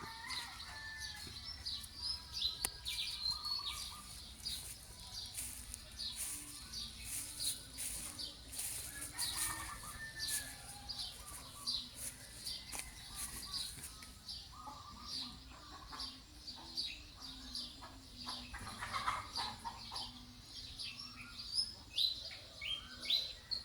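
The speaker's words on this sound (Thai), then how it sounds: "เสียงไก่ เสียงนก" In a cold village at dusk, small birds chirp and tweet in quick repeated bursts while chickens cluck now and then, all faint and somewhat distant with no talking.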